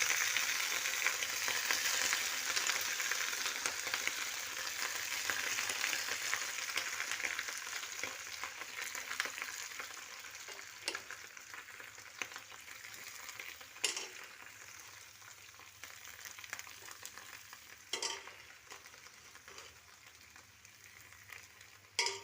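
Washed Malabar spinach and other vegetables hitting hot tempered oil set off a loud, bright sizzle that slowly settles into a quieter frying crackle, with scattered stirring clatters against the pan.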